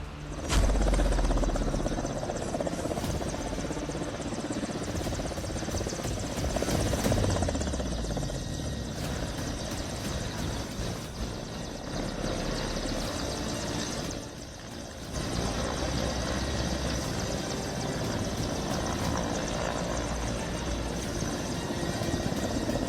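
Fighter jets landing on an airstrip built on the Ganga Expressway in Shahjahanpur, Uttar Pradesh: a loud, continuous jet engine roar with a sustained rumbling wash that dips briefly before surging again, no talking.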